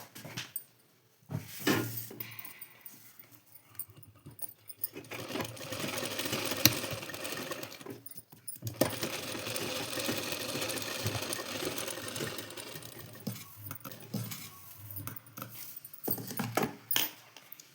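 A sewing machine stitches a blouse lining in quick running bursts. The stitching stops briefly between passes and sounds close but fairly quiet.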